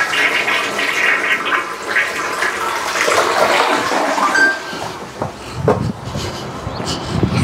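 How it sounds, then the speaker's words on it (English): A toilet flushing with a long, loud rush of water that swirls and drains, then fades into gurgling and trickling refill sounds, close by and with no voices. "the toilet is able to be flushed"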